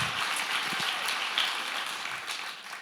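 A live podcast audience at a leadership summit claps for guest Jonny Hughes, a soft, steady wash of many hands heard from a distance, gradually fading toward the end.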